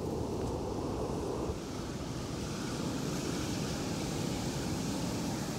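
Waves break at Juno Beach, Florida, on the dog beach stretch, producing a constant broad roar of surf with wind noise, steady and unbroken throughout.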